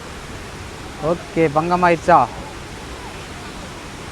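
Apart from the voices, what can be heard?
Athirappilly waterfall rushing water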